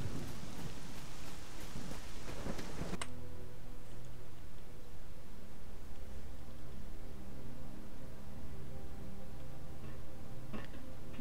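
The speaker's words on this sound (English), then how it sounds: "this thunder is very loud" Loud rolling thunder and steady rain in the S.T.A.L.K.E.R. Lost Alpha video game, a heavy crash fading into a long low rumble over continuous rainfall, with a faint crack near the end.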